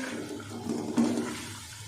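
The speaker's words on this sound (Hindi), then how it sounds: "और अब डाल देंगे आलू।" Diced medium potatoes tipped into a pan of chicken that has been frying on high heat, a soft rush and sizzle swelling as they land, then settling into a low steady hiss.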